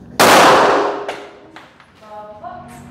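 A single loud gunshot at an outdoor shooting range, with a sharp crack at the start that decays over about a second, followed by fainter clanks and thuds and a short buzzing electronic beep near the end.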